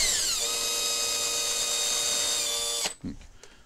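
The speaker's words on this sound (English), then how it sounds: "these 2 I just drill right in the corners" A power drill whines steadily at high speed for nearly three seconds during intermodal railcar ladder repairs, then cuts off abruptly, leaving a few faint clicks and handling noises.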